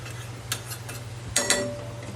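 Onions and sugar get stirred in a pan for chicken curry, with a few light scrapes and clinks of a utensil against metal over a soft low hum, close and brief, with no talking.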